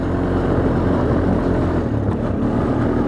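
Steady low mechanical drone of a Honda Foreman 450ES ATV engine idling on two-year-old fuel, continuous and fairly loud with no speech.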